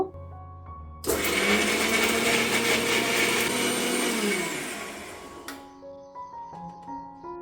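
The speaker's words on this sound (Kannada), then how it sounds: "ನಂತರ ಇದಕ್ಕೆ ಚೂರು ನೀರು ಹಾಕಿ ಇದನ್ನ ಇವಾಗ ನಾವು ನೈಸಾಗಿ ಪೇಸ್ಟ್ ಮಾಡ್ಕೋಬೇಕು" A blender grinds whole spices with a little water into a smooth paste for mushroom biryani: a loud, steady motor whir starts abruptly, runs about four seconds, then cuts off, leaving faint kitchen hum.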